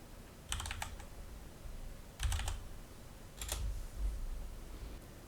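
Keys clatter on a computer keyboard while a node in Foundry Katana is renamed. Three short, quiet bursts of rapid clicks are spaced apart, with soft low thumps against a faint room hiss.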